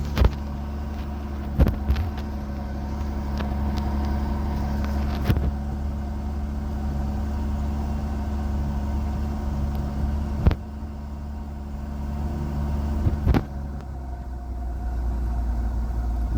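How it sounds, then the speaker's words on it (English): A 2007 Ford Taurus engine idles steadily after starting, a low, even hum near the microphone with a few sharp clicks and knocks scattered through it. "we just cranked the car up. Now we're gonna watch the idle."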